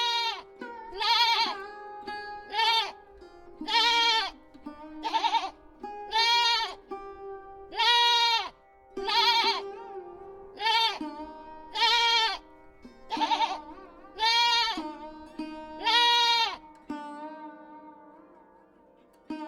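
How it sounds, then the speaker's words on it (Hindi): Goats and sheep in a cartoon story bleat about a dozen times in a loud, close, evenly spaced series, with no other sound. "उसने देखा कि बकरी का एक बच्चा एक पेड़ पर चढ़ा हुआ है और भेड़ें जुगाली करते हुए मुंह हिला रही हैं"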